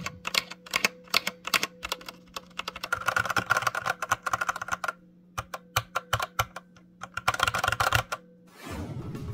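Gateron clear white linear switches clack on an arcade fighting-game controller, pressed in fast irregular bursts of button taps. The presses are close and crisp over a faint background hum, with no talking.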